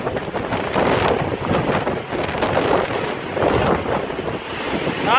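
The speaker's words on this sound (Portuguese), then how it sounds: "Olha o vento aqui, como é que tá forte." Strong hurricane wind during Hurricane Matthew in a backyard, roaring and buffeting the microphone in steady loud gusts, with no talking.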